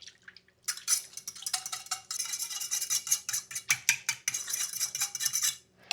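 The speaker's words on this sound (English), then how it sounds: "you're going to grab a fork and you're going to mix until the sugar is dissolved" A fork stirs sugar in a small bowl, part of making naan dough, with steady rapid metallic scraping and clinking against the dish for several seconds, close up, with no talking.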